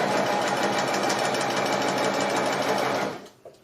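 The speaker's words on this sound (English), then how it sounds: "I'm just going to keep sewing straight and just kind of go right over that" A sewing machine stitches quilt fabric for a Beetlejuice test block in a steady, close, fast mechanical whir, then stops abruptly, leaving a faint click afterward.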